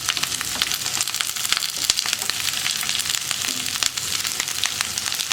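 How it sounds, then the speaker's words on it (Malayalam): Steady, loud sizzling of onions, green chillies and curry leaves frying in hot oil after mustard seeds pop, with crackles and pops throughout and no voices. "കടുക് പൊട്ടിക്കഴിയുമ്പോൾ നമുക്കിതിലേക്ക് നമ്മൾ കട്ട് ചെയ്ത് വെച്ചിരിക്കുന്ന സവോളയും പച്ചമുളകും കറിവേപ്പിലയും കൂടി ചേർത്ത് കൊടുക്കാം."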